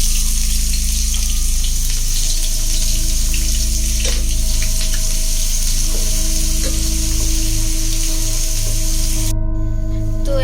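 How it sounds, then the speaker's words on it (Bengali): Onions frying in hot soybean oil for biryani, a loud, dense, steady sizzle close up that runs throughout with faint stirring, over a low kitchen hum and no talk. "সো গাইস, তেল গরম হয়ে গেছে। আর এখন আমি এখানে বেরেস্তা করে নেব ফার্স্টে।"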